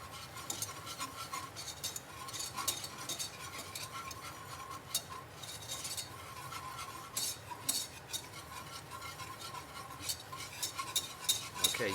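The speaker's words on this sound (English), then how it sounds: "Sort of making a roux, if you will" Flour being stirred into melted butter in a pan to make a roux for scalloped potatoes, with repeated scraping and clinking of a utensil against the pan under a faint sizzle, steady and close.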